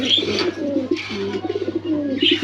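Giribaz pigeons coo up close in low, rolling, throaty phrases, several bursts over a couple of seconds with a steady hum beneath.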